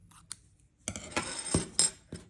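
Scissors snipping crochet yarn for a bunny, a few close metallic clicks and a quick cutting rasp, quiet and alone.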